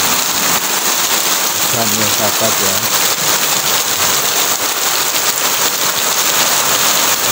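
Heavy rain pours down outside a house, a loud, dense, steady hiss filling the whole clip, with a brief spoken phrase heard over it.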